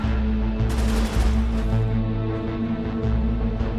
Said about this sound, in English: rattle off a few rounds from the machine gun into the targets